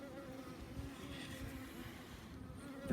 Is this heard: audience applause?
no